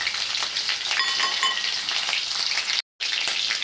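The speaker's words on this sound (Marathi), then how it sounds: "छान तडतडू द्यायची जिरं दोन मिरच्या घालूया आले लसूण पेस्ट कढीपत्ता" Cumin seeds, mustard seeds and two chilies crackling in hot oil for a tempering, a dense close sizzle and spatter that holds steady, broken by one brief gap of silence near the end.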